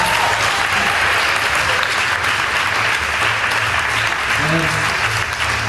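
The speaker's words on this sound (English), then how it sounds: "please give everybody a big round of applause" Audience applause at a Reggae University dancehall session in 2015, a dense steady wash of clapping held at full level throughout, with a few faint voices mixed in.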